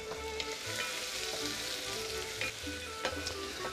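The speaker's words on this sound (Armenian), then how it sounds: "Լսեցիր ձայնը, ուրեմն դաղվել էր, չէ՞։" Food fries in olive oil in a pan as a spinach dish is made, giving a steady, fairly quiet sizzle with occasional pops and stirring taps, and no one talking.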